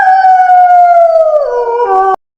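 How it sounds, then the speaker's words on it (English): A single long canine howl from a wolf or jackal holds steady, then slides lower and breaks off abruptly, loud and close with no other sound. "Wolf and jackal howl."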